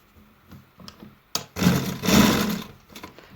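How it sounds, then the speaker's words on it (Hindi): Sewing machine stitching along the edge of a baby boy's kurta, a short quiet run followed by a louder steady whirring burst of about two seconds, close by with no talking. "इसके किनारे पे हल्के हाथ से यूँ बड़े आराम से सिलाई लगाएं"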